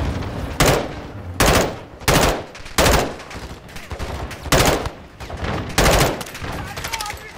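Bursts of automatic gunfire in a shooter video game come in repeated loud volleys of rapid shots, separated by short gaps, with faint background noise between bursts.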